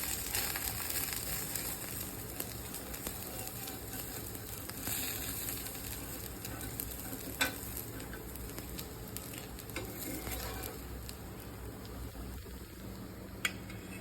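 Onion rava dosa cooking in oil and ghee on a pan, a steady soft sizzle and crackle with occasional small pops, close and moderately quiet throughout.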